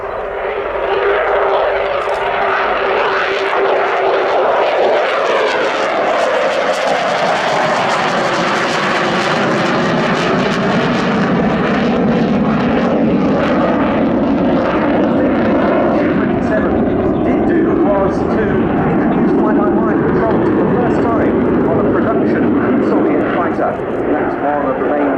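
Sukhoi Su-27 Flanker jet in a sunset flying display at RIAT 2018, a loud continuous engine roar that swells and sweeps in pitch as the fighter passes, sustained throughout under a commentator's voice.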